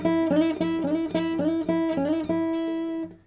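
A guitar lick plays a repeating phrase of quick notes with slides on the third string toward an E, clean and upfront, ringing out at the end.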